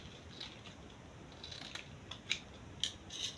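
Scissors snipping excess fabric while making a lined turban cap, a few faint, crisp cuts over steady background hiss.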